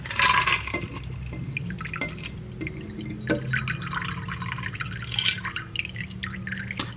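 Liquor poured into a cup at home, a faint trickling and dripping of liquid running for several seconds, close but quiet under light background noise.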